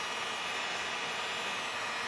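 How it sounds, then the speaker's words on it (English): A heat gun heating screws set into pipe for a cosplay knife prop blows a steady, even rush of air, loud and continuous with no pauses and no talk. "I'm going to use my good old-fashioned heat gun. I'm going to just heat it up a little bit."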